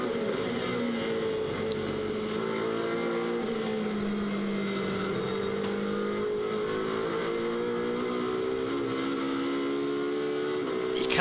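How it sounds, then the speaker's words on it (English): A naturally aspirated V8 race car engine screams loudly through rising gear pulls to about 9,000 rpm, pitch climbing, dropping at shifts, then climbing again, heard on board during a lap of Silverstone. "Can't beat the sound of an aspirated V8 engine up to 9."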